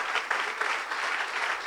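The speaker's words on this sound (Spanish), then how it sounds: "Démosle un aplauso al Señor," A church congregation claps in praise during a Spanish-language sermon, a brief burst of steady, fairly close group applause with no speech over it.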